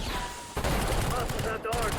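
Bursts of automatic gunfire crackle during a gunfight in Black Ops 6, a rapid fusillade broken by a brief pause, with talking over the shots.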